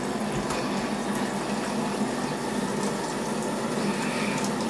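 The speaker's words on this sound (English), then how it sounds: "the shower wand goes a lot faster than the old way of the measuring cup in the water" Shower wand spraying water steadily over a dog during a bath, a continuous close hiss of gushing spray with no speech.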